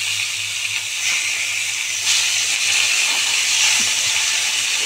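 Bhola fish frying in oil gives off a steady, loud hiss of sizzling that swells slightly midway, close up and continuous, with no talking.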